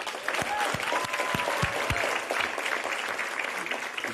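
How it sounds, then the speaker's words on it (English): An audience at an award ceremony claps together, a dense burst of hand applause that holds steady for several seconds, with a few sharp close claps near the start. "So I don't know if in any other room I would get that type of clapping."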